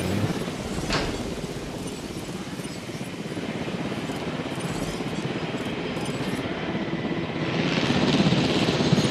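Helicopter in Jurassic World Evolution on an island park, a steady broadband rotor and engine drone held throughout, rising slightly louder near the end.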